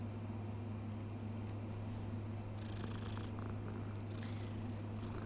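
A cat purrs steadily and continuously up close, a low rumbling drone running without a break under faint background hiss and the odd soft game sound.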